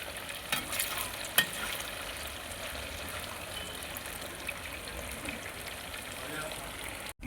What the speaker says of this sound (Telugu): 6 మినిట్స్ అలాగే వేయించుకుందాం